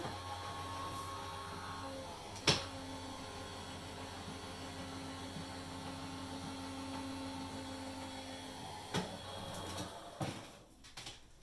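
An electric embossing machine runs an embossing folder through on a second pass, giving a steady low motor hum with a few faint clicks and knocks near the end.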